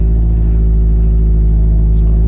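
A 2000 Mitsubishi Lancer Evolution 6 Tommi Makinen Edition engine idles steadily with a deep, rumbling low hum, loud and close, holding an even tone throughout.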